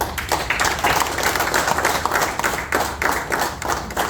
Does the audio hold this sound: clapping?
yes